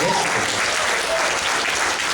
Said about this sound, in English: Y'all going to clap for the Lord.